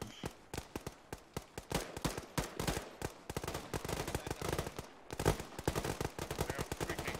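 Rapid gunfire in the Arma 3 video game, mixing automatic bursts with single shots, loud and close, crackling steadily throughout with brief gaps.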